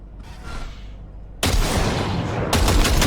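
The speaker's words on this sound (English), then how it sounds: "See that pile of junk? Fire a short burst into it." Short bursts of automatic gunfire in Cyberpunk 2077, fired into a pile of junk: a loud, dense rattle of rapid shots that breaks in sharply and grows heavier with a second burst, no talking.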